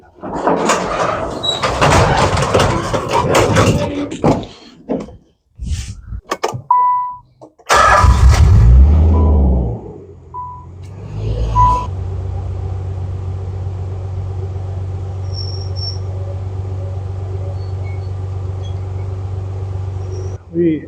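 Talking and clatter at first, then a Nissan Z32 engine cranks and catches, settling into a steady, close idle hum that continues to the end.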